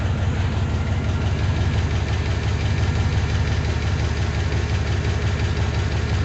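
A junkyard 6.0 LS V8 engine running steadily right after its first start, a loud continuous rumble with a dense low drone and no talk over it.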